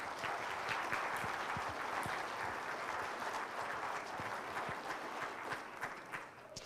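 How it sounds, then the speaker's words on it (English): Sustained applause from a music festival audience honoring a choir helper, dense clapping filling the room at steady loudness throughout with no one speaking. "Please give a round of applause to Mr. Bruno."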